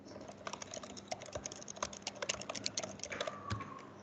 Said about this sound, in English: You're typing too fast.